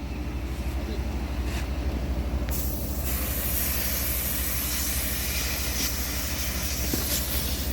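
Refrigerant blasts from the gauge hoses on an 11-year-old HVAC package unit with a leaking coil, a loud continuous rushing hiss that flares sharper partway through, with a low mechanical rumble underneath.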